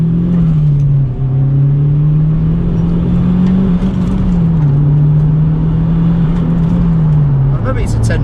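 Turbocharged Honda K20 engine in an EP3 Civic Type R cruising up a motorway, a loud, steady droning hum with slight pitch rises and dips, while people talk inside the car.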